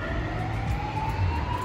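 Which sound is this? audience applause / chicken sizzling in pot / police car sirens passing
police car sirens passing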